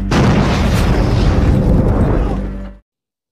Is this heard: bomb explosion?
yes